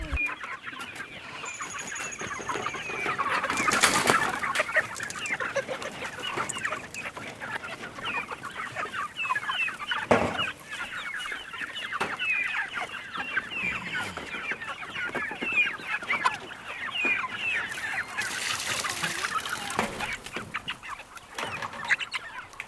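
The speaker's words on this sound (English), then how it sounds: "Layer chickens, meat chickens." Layer and meat chickens on a homestead cluck and murmur continuously at feeding time, a close, busy flock with occasional louder squawks and scuffling, no one speaking.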